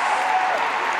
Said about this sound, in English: round of applause for Ollie Morgan.